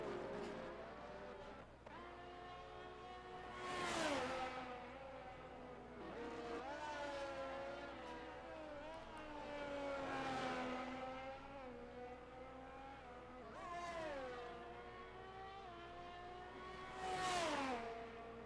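A Formula 1 car in the F1 22 video game laps the Shanghai circuit, its engine revving up and down through rising gear changes in repeated loud surges, with faint tyre noise.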